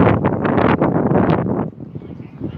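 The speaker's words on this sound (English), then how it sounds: "It's windy, and the wind is carrying your voices away." Gusty wind buffets an outdoor microphone in a loud, steady rumble that eases slightly near the end, with faint rustling and no clear talk.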